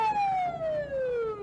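Siren on a car fitted with a commemorative plate, stopped by traffic enforcement at midday: a loud, steady wail sliding slowly downward in pitch with clear harmonics, close by over faint road noise.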